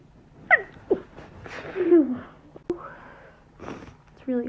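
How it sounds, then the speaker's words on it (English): Soft, stifled sneezes from someone trying hard to keep them quiet, with sniffs and breathy gasps in between, close to the microphone in a quiet room. "Trying to keep my sneezes quiet."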